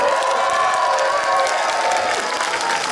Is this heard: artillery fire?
no